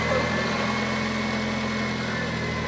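A buggy engine runs at a steady idle just after starting, a constant close-up rumble with an even mechanical hum throughout.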